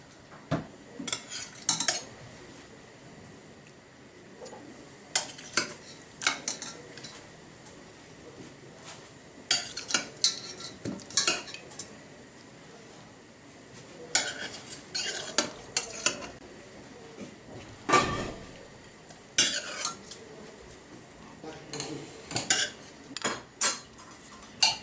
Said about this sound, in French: J'ai mélangé les lentilles avec la sauce.